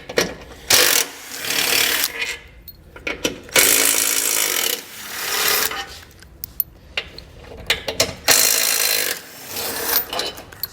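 Ratchet on a 15mm socket removing bolts from a 2021 Jeep Cherokee, rapid bursts of clicking pawl strokes alternating with short pauses, close and fairly loud, repeated several times.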